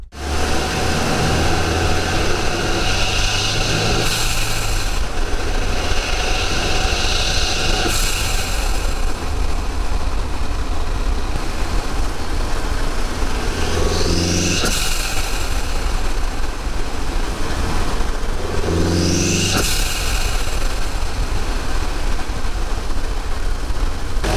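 A car engine with a stock blow-off valve idles steadily, then revs up several times; each rev ends with a sharp hiss of released air as the engine drops back.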